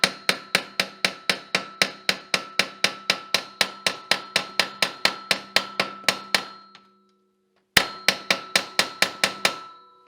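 Hammer blows tapping a bearing into a Polaris P85 primary snowmobile clutch: a steady run of sharp metallic strikes, about three per second, close and loud, then a brief pause before another quick series.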